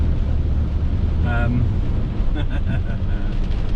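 A vehicle wading across a flooded road, with a steady low rumble of engine and water wash throughout and a few brief splashy bursts midway and toward the end.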